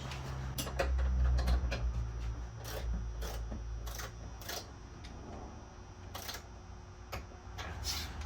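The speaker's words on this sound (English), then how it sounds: "We're going to torque the lower shackle bolts to 30 foot-pounds." Torque wrench clicking while tightening lower shackle bolts in the rear suspension of a 1973 Dodge Challenger, heard as sharp, irregular clicks spread over several seconds above a steady low shop hum.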